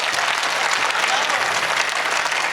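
Loud, dense applause from a crowd at an outdoor Hindi poetry gathering, a continuous close wash of clapping that holds steady throughout.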